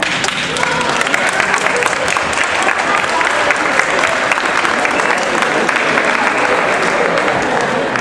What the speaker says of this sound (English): face your family members and friends and applaud them